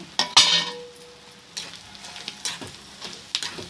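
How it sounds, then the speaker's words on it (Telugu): Fried pieces being stirred into gongura egg pachadi, a spoon scraping and clinking against the pan in short bursts over a faint sizzle, close up with no speech. "వేసుకొని బాగా కలుపుకోవాలి"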